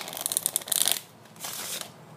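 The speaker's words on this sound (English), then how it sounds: "Alright, this is the Riffle Shuffle." Riffle shuffle of a green-backed Bee playing card deck: a crisp, close fluttering burst of rapid card snaps for about a second, then a quieter softer riffle and bridge shortly after, with no talking.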